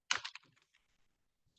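Typing on a computer keyboard while entering network commands: a quick burst of close, crisp key clicks that thins out into a few scattered, fainter taps.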